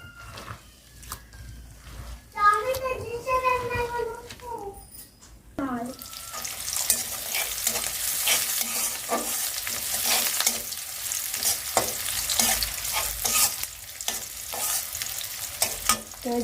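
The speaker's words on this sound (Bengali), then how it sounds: "আমি ভাজিটা দেওয়ার জন্য পেঁয়াজ রসুন মরিচ আর একটুখানি জিরা দিছি তো জিরা তেলের উপরে দিলে আর কি গন্ধটা ভালো আসে" Onion, garlic, chili and cumin frying in oil in a home kitchen, a steady loud sizzle with stirring scrapes running for most of the clip after a brief stretch of other sounds at the start.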